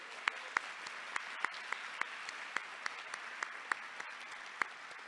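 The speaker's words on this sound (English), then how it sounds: "let's give a warm round of applause for our new public health employees" Faint, distant applause at a swearing-in ceremony for new public health employees, a thin wash of clapping with scattered sharper individual claps at irregular intervals.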